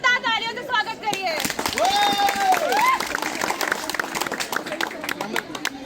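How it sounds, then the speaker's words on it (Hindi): A crowd at a school patriotic-speech event applauds a welcome. Scattered claps build into steadier clapping in the second half, mixed with a voice and a background murmur of chatter. "मोदी का जोरदार तालियों से स्वागत करिए।"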